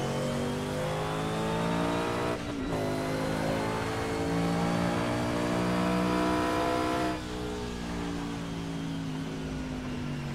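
Race car engine in Project Cars revving hard and steadily with a strong low-end drone, rising and falling through two brief lifts around gear changes, loud and continuous with no talk.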